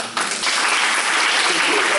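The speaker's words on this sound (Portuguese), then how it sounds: "Pode bater palmas." Loud, dense applause from a crowd at a lecture during a 2019 gathering, building quickly after a brief quieter start and holding steady to the end.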